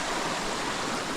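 Rushing water of Pagsanjan waterfall in Laguna, a steady, dense broadband roar that holds unchanged through the short moment with no voices.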